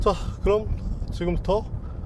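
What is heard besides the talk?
No everyday noises stand out.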